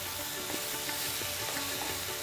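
Sliced banana stem sizzles steadily in a hot pan while a utensil stirs it, with soft scraping strokes recurring every half second or so over the continuous frying hiss, close and fairly loud.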